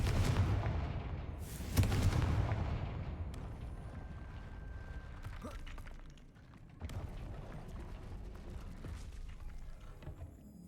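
Confringo spell blasts in the Hogwarts Legacy video game, two heavy booming explosions close together at the start, then rumbling crackle and a further burst later.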